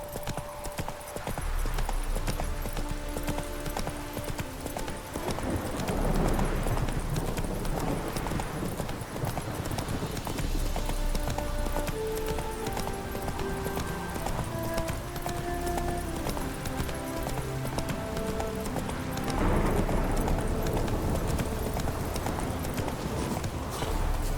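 Roach, a horse in The Witcher 3, gallops with steady, continuous hoofbeats for the whole stretch under a backdrop of game music.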